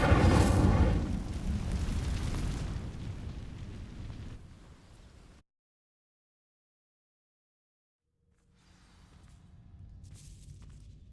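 A loud burst of flame from the Incendio fire spell igniting dry vines in Hogwarts Legacy, a heavy roaring whoosh that fades over several seconds, then silence, followed by a faint low rumble and sparkle.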